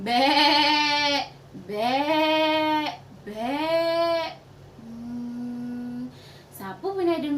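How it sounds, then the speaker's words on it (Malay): Three loud, close, quavering goat bleats come in quick succession, then a softer, steadier bleat and a short final cry. "Okey, bunyi kambing."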